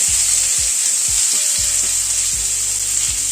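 Potato and pumpkin pieces frying in a pan over a medium gas flame, a constant bright sizzle with a series of low scraping knocks from stirring spaced through it, close and loud, no voices.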